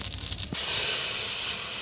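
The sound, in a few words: water added to hot fish-frying oil with tempering, hissing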